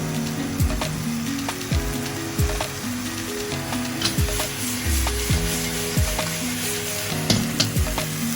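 Shrimp heads frying in butter in a wok, a loud continuous sizzle broken by repeated scraping and clanking stirring strokes, with no talking.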